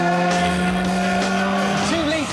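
A Ford Sierra Cosworth touring car, 2-litre turbocharged and making 550 horsepower, races in late-1980s British Touring Car competition. Its loud, sustained engine drone carries rising and falling pitch sweeps.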